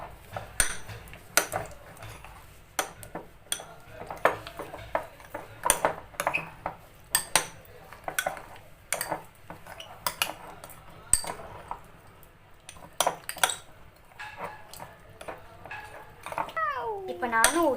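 Glue slime gets stirred in a bowl at home, giving repeated light clinks and scrapes of a utensil against the bowl in an irregular rhythm, with a voice talking at intervals.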